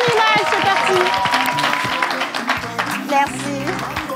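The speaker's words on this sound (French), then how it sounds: "On applaudit pour les deux artistes en image." A live stage show audience applauds two artists, the clapping steady but sitting under a loud talking voice and music-like tones throughout.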